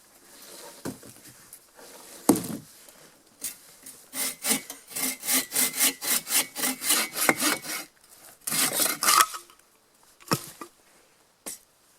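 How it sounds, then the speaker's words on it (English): A hand saw cuts through a standing dead log to make firewood lengths outdoors, with a few scattered strokes that build into a fast, steady run of loud, close rasping strokes, then pause and trail off. "I'm going to go ahead and start cutting this log down into some more firewood sized lengths."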